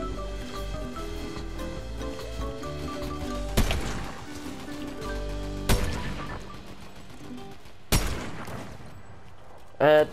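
Gunfire in the video game Fortnite: three sharp, loud shot bursts spaced a couple of seconds apart over a continuous layered game soundtrack, with a final short burst at the end.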